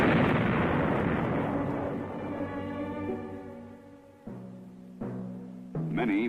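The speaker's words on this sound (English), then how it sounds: "The mine itself should be destroyed in the same way pressure-type mines are blown." A Viet Cong mine is blown up in a loud explosion, a heavy blast whose rumble slowly fades over several seconds, followed by a few sharper secondary bangs.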